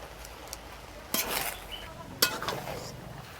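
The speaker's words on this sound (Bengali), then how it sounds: "এবার একটু নেড়ে চেড়ে নেব" Broken-rice khuder bhat with cut mango and chopped red greens being stirred in a pot, heard as two short scraping, clattering bursts of the spoon against the pot in an otherwise quiet kitchen.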